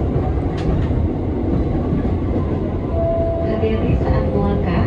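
An Indonesian commuter train (KRL) arriving at a station, with a steady loud rumble of wheels and carriage noise throughout, a faint tonal squeal near the end and no clear talk.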